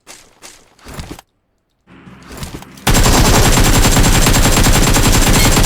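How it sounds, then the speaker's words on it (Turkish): Automatic gunfire in the PUBG Mobile battle royale game: after a few seconds of quieter in-game sounds and short gaps, a loud, continuous burst of rapid rifle shots starts and keeps going to the end. "Oy ok gibi gitti silah valla."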